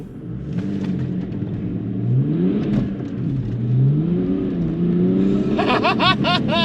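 BMW E92 330d diesel launching from standstill on a damp road with wheel spin, the engine revving and droning upward in pitch as it pulls away, loud and close, followed by a sharp gear-change flutter.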